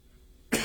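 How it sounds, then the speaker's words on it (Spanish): A single sharp cough from a speaker during a Spanish-language devotional, bursting suddenly after near-silence and ringing briefly at close range. "Es que está un poco malo la tos."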